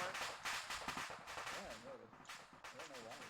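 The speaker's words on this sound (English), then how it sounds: "That sniper fire looks like it's coming from the southeast" Sniper gunfire in a video game: sharp, close cracks and bursts recur through the stretch, mixed in with ongoing talk.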